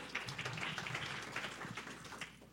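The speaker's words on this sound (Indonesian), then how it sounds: "Tepuk tangan dulu dong" Audience applause in a hall during a question-and-answer session at a 2024 church retreat, steady dense clapping that holds for a few seconds at moderate, somewhat distant level, without talk over it.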